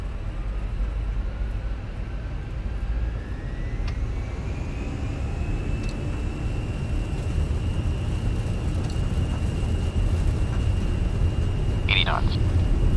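Airliner takeoff roll in Microsoft Flight Simulator 2020, a steady loud engine roar with a rising whine as thrust builds down the runway, with a brief cockpit chime near the end and no talk.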